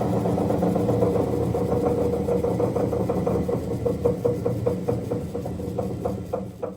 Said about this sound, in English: as you can hear we've got a terrible knock from this intermediate